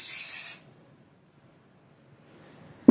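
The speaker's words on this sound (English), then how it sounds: "A little bit of spray never hurt anybody." A single loud, close hiss of an aerosol hairspray lasting about half a second, then near silence with a faint bump at the end.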